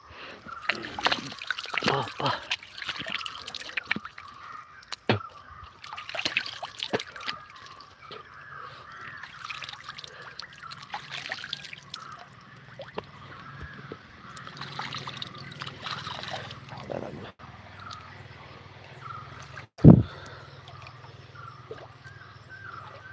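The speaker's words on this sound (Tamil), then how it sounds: "அழகிய நீரோடை" A small stream near the Sabarimala Ayyappan temple trickles and splashes quietly and continuously, with voices heard at times and one sharp knock near the end.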